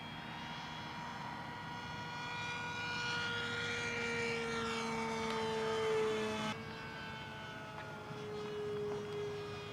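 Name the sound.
ReadyMadeRC Mini Skyhunter RC airplane flying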